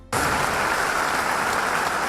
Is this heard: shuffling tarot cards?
no